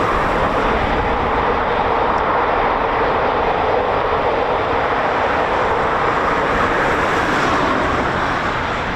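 A Eurofighter Typhoon FGR4 jet takes off at RAF Coningsby, its engines producing a loud, steady, broadband roar that holds unbroken throughout.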